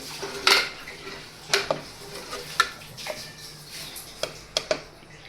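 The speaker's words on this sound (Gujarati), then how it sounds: "કુકરને બંધ કરી દઈશું" A metal pressure cooker lid and pot being handled and closed in a home kitchen, several sharp clanks and clinks spaced apart over a quiet background.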